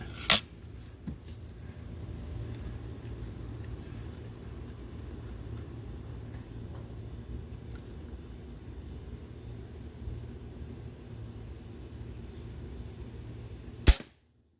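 A Webley & Scott Xocet .25 caliber air rifle with a short barrel and open sights fires pellets in a backyard, two sharp cracks about fourteen seconds apart over a quiet outdoor background with a steady insect whine.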